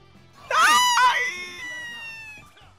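A streamer lets out a sudden high-pitched scream while playing Inazuma Eleven Heroes Victory Road, a sharp cry that peaks quickly and then trails off into a fading wail.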